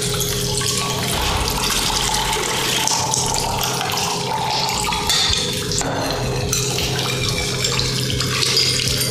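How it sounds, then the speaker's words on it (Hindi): Water runs steadily from the spout of a Keva water ionizer into a beaker, a continuous close splashing flow that holds constant throughout with no speech. "अब इसमें जो पानी आ रहा है"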